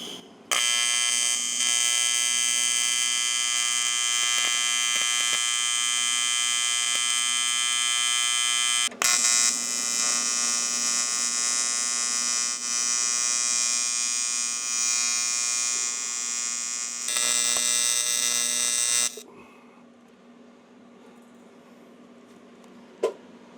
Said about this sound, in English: Well, that certainly wouldn't pass for the prettiest weld in the world